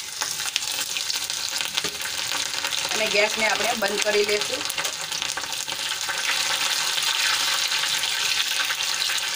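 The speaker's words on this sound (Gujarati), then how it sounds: "રાઈ ફૂટી ગઈ છે, તો એમાં મેં 3 મરચાં આ રીતે લાંબી સાઈઝના કટ કરીને લઈ લીધા છે, એ એડ કરી દઈશું" In a Gujarati kitchen, mustard seeds and long-cut green chillies sizzle in hot tempering oil for sandwich dhokla, a steady loud hiss and crackle throughout, with someone briefly speaking over it.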